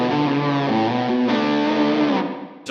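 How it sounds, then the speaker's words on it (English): Heavily distorted electric guitar, a first-year Gibson Custom R0 reissue through a Tube Screamer and fuzz pedal on the bridge pickup, playing sustained chords with a thick, fuzzy, saturated tone, loud and steady, fading slightly at the end. "I'm adding a tube screamer and a fuzz pedal to create this quite chewy type fuzz."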